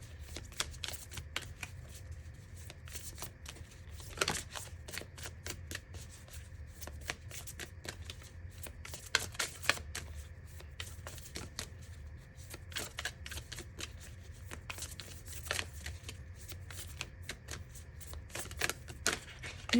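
Tarot cards riffle and slap in repeated shuffles, a close, crisp run of flicking bursts with short pauses between them, carrying on steadily with no talking.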